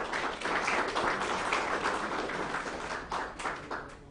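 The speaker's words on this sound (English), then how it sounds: "let's give a round of applause to them" Audience applause at an event on women in open-air and cross-border trade in Kenya: a sustained round of many hands clapping, fairly distant and even, tapering off near the end.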